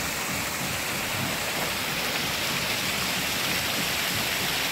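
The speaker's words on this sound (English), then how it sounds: "And that lets the water in underneath the boat." Water surges into a canal lock through an opened ground paddle, a steady loud broadband rush like heavy rain or a weir, constant and unbroken with no voices.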